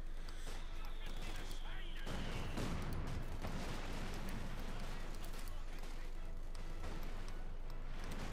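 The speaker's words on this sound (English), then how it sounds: "we got artillery called in, I think, by Dave's Major" Artillery fire in the World War II strategy game Company of Heroes 2 brings repeated booms and blasts mixed with gunfire, set under almost constant talking.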